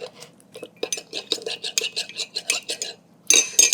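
A spoon scraping and clinking steadily around a pot of cherry sauce being thickened with cornstarch, quick rhythmic strokes close by, ending in a louder clatter.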